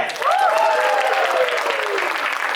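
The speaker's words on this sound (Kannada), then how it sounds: "ಹೊಡೀರಿ ಒಂದು ಚಪ್ಪಾಳೆ." An audience breaks into loud, dense applause, with a rising and falling vocal whoop ringing out over the clapping early on.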